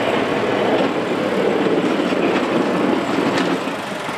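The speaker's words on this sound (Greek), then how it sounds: "Τα μηχανήματα του Δήμου Καντάνου Σελήνου επιχειρούν από το πρωί να καθαρίσουν δρόμους και περιουσίες." Heavy municipal machinery works to clear flood-damaged roads and properties after torrential rain in south-west Chania, Crete, making a loud, continuous, broad rumbling roar that holds steady and eases slightly toward the end.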